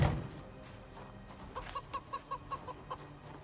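Chickens kept on a farm in Project Zomboid give a run of soft, evenly spaced clucks, about eight in a row, moderately close over a low ambient game background.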